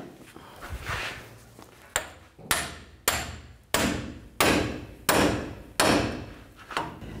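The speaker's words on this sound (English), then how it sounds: "I am gonna use the pickle fork." A pickle fork hammered to separate the lower ball joint on a 2007-2014 GMC Sierra 3500 HD, about eight loud, evenly spaced metallic blows ringing out close by with no talk.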